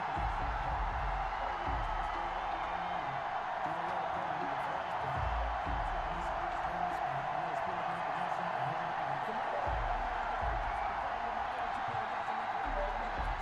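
Steady roar of a sold-out stadium crowd cheering in an American football video game, Bills against Ravens before kickoff; dense, continuous broadband crowd noise with no clear breaks, loud and filling the whole stretch.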